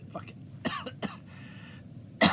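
A man coughs a few times in short bursts after laughing hard, fairly quiet and close, with brief throat clearing.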